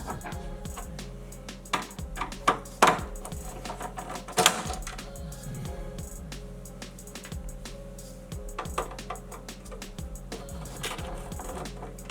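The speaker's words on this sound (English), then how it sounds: "We're gonna remove those screws." Screws are removed from the casing of an E-mu SP-1200 sampler, with irregular small clicks, taps and scraping heard up close and no talk.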